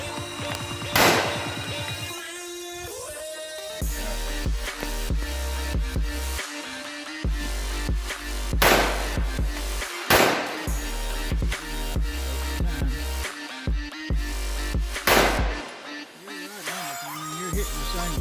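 Glock .40 pistol fired repeatedly outdoors, a series of loud, sharp cracks spaced a few seconds apart, each with a brief tail, over a steady background beat.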